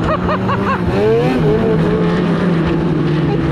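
An Arctic Cat Catalyst snowmobile's 600 engine revs loudly up close, its pitch rising and wavering as the throttle opens, then settling into a strong, steady drone.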